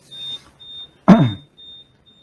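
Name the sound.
feed-pushing robot beeping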